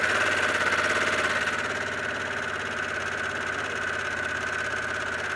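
A Harley-Davidson Pan America motorcycle engine runs at a steady idle, a close, even mechanical hum with a fine rhythmic pulse and no speech.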